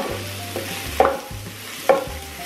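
Chorizo and pork stirred in a hot pan: a continuous sizzle with a low hum beneath, broken by two sharp scraping clatters of the utensil about a second apart.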